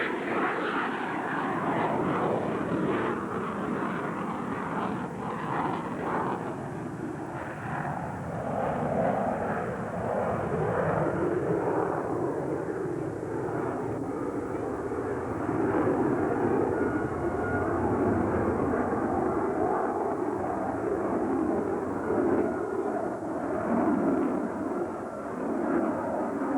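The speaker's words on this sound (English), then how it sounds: "The incredible, awesome power and performance of the F-A-18" An F/A-18 Hornet jet fighter roars steadily through the sky during a flight demonstration, a loud continuous engine rumble that swells and shifts in pitch as it passes.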